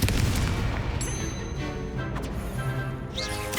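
A Confringo fire spell goes off in Hogwarts Legacy with a loud, dense explosive burst that rumbles on for several seconds, sharp crackles flaring near the start and again toward the end.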